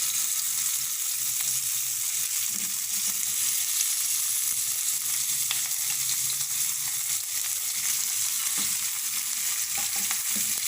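Mutton chops fry in melted butter in a pan, a dense, even sizzle holding steady from start to finish, close up, with faint occasional ticks and no voices.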